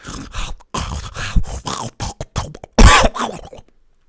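A voice mimics loud snoring with rough, rattling snorts and throaty breaths, several bursts in an uneven rhythm, ending with one harsh, loud snort.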